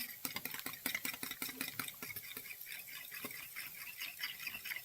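Fork or whisk beating eggs for an omelette, a rapid series of light clicking taps against the bowl, close and steady for several seconds, no talking.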